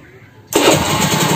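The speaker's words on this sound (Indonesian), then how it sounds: "Nah double starternya itu langsung jering, enak, ringan ya" A motorcycle's double electric starter cranks and the engine catches at once after a wiring fix, jumping from near quiet into a loud, steady, close running roar.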